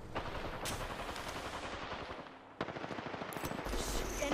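Rapid automatic gunfire in Apex Legends, a dense, steady stream of shots with no speech, broken by a short dip and a sharp crack partway through before the firing resumes.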